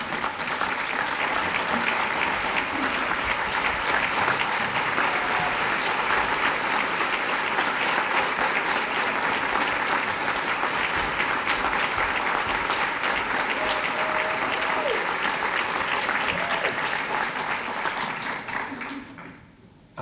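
Sustained applause from a luncheon audience greets Edward James Olmos, loud and steady clapping that fills the room for about eighteen seconds before quickly fading out at the end.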